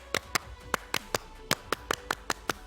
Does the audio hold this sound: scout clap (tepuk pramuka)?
yes